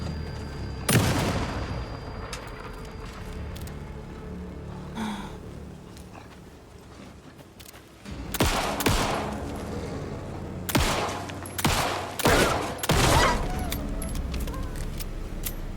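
Gunfire cracks out in Alan Wake II as animals are shot at: sharp, loud bursts in scattered groups, some single shots and some quick volleys, with quieter game ambience between them.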